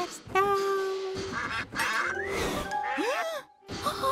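Cartoon ducks quacking on railway tracks in a Thomas & Friends animation, a run of loud, near quacks and squawks mixed with voices and music.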